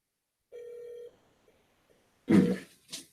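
A telephone rings once in a steady electronic tone, clear and close, followed by a brief pause, faint clicks, and a louder burst of handling noise or rustle near the end.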